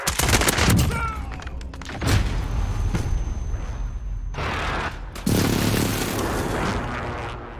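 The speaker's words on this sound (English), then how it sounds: "Precision airstrike available." Precision airstrike in Call of Duty Warzone, heavy explosions landing in several separate bursts, each a loud crack followed by a rumbling roar, with a brief lull between impacts.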